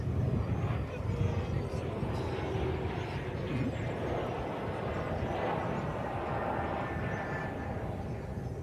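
A Spirit airliner at DFW Airport gives off a broad, steady jet engine roar that stays loud and even throughout, with a voice talking faintly beneath the rumble.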